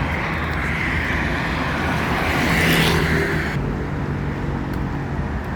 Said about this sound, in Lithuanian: Motociklą važiuoja.